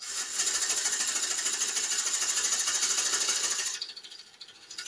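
Wood lathe spinning a hard yew bowl blank with a tool cutting it, a loud steady whirring hiss with a fine rhythmic rattle that cuts off near the end, leaving a quieter hum.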